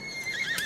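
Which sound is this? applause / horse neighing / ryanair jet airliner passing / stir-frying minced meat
horse neighing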